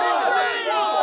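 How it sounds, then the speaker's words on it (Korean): Battle cries from a crowd of soldiers celebrating a fantasy-war victory over a fallen enemy knight, a dense, continuous roar of many shouting voices, loud and close throughout. "여기저기서 승리의 함성 소리가 울려 퍼졌습니다."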